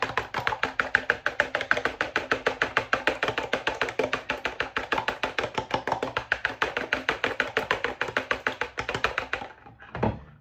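Two eggs whisked briskly in a bowl, with a rapid, steady run of close, loud clicking whisk strokes that stops abruptly near the end, with no talk.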